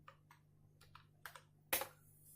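Keystrokes on a computer keyboard while entering a network switch configuration command, a few sparse light clicks followed by a louder cluster of taps near the end over a faint steady hum.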